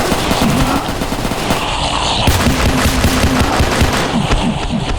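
Gunfire in the Roblox game PARACAM, a continuous, loud barrage of rapid automatic shots with no pause across the whole stretch.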